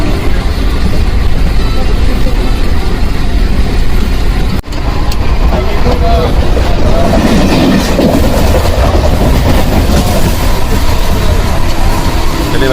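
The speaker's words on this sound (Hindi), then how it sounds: "चलिए भाई साहब 110 की स्पीड पर नागल से निकल रहे हैं।" A 20412 MEMU superfast train running on the tracks at about 110 km/h past Nagal, heard as a steady, loud rumble and rattle from on board that runs the whole time, with voices talking over it.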